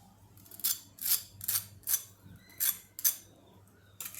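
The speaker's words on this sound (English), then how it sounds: "now we have to cut one ball in middle." A knife cuts into a golden, crispy fried bread and potato ball with cheese inside, giving about seven sharp crunching crackles in steady succession, close and distinct in a quiet kitchen.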